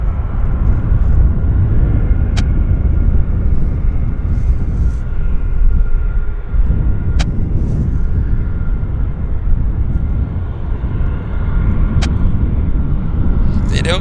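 A WestJet airliner rumbles steadily at Vancouver Airport, a broad continuous engine roar in bad weather, with people talking over it and a few sharp clicks.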